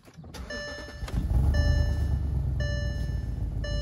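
A 330 hp V8 car engine cranks and starts, then settles into a loud, rumbling idle with a slight popping from a leaking exhaust pipe joint, accompanied by a steady chiming warning tone.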